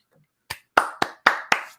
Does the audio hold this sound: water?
no